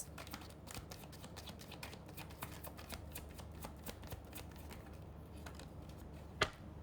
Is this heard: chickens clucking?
no